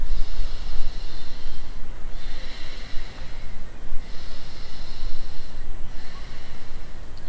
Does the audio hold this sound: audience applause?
no